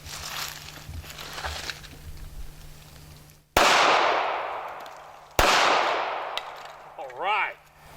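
Two sharp, loud gunshots from a Ruger LCP II pistol firing the cheapest .380 ammunition available, each crack followed by a long decaying outdoor echo. Quiet background noise precedes the shots, and a short voice sound follows them.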